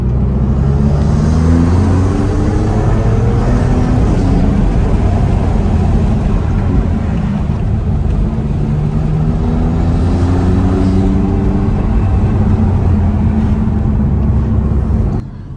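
A Maserati MC20 with its V6 Nettuno engine cruising gently along a Mediterranean seafront, giving a loud, steady engine drone heard from inside the car, with a low rumble and rising and falling tones as it eases through the gears.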